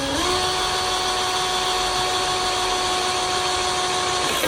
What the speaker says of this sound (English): Here we have Mark about to drill carbon fiber